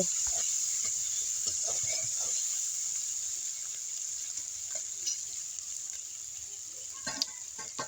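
Small pond-caught fish coated in salt and turmeric fry quietly in a pan, a soft steady sizzle with occasional light clinks and stirring scrapes, faint and close, without talking.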